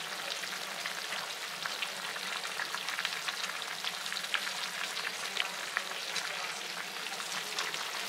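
Cabbage soup simmers in a covered pot, a constant fine bubbling and crackling hiss close by, steady and unbroken with no voices.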